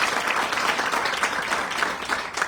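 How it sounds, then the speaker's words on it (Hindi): A meeting-hall audience applauds loudly and steadily, dense clapping from many hands filling the room without a break for a couple of seconds. "लिए जोरदार ताली बजाइए। जबरदस्त।"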